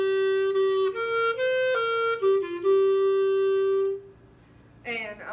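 A concert band plays measures 21-24 of a piece, a sustained, articulated melody line over steady accompaniment, loud and close for about four seconds before fading to a quiet tail.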